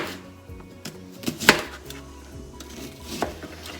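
A kitchen knife chops onion into small pieces on a cutting board for corn chowder, several close, sharp knocks at an uneven pace, one louder strike standing out.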